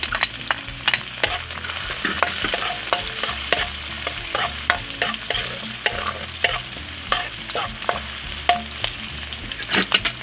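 Ginger, onion and garlic sizzle as they fry in a pan, a steady close hiss punctuated by frequent scraping stirs of a utensil, with no talking.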